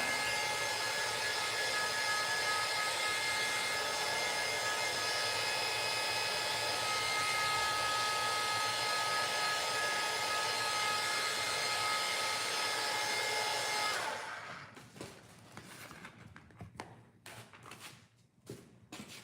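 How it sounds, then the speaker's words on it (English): A hair dryer roars steadily at close range for about fourteen seconds, then cuts off, leaving quiet clicks and light handling noises. "mind the noise of the dryer"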